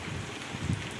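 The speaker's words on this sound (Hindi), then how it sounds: "लेकिन बारिश आ रही है, बहुत बारिश आ रही है बाहर" Heavy rain pours down outside, a steady broadband hiss with a few louder drops or thumps near the middle, no voices.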